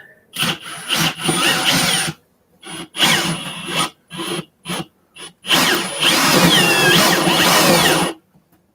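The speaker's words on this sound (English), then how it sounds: "We'll drill down to get started." A power drill whines in several short bursts, then runs in one long steady stretch as it bites through wood while building a carpenter bee trap, close and loud, with no talking.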